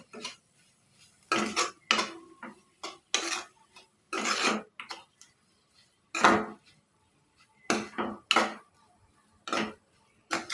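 Peanut powder being stirred into amaranth leaf curry, a series of distinct scraping and clinking strokes of a spoon against a pan, close, separated by short silences.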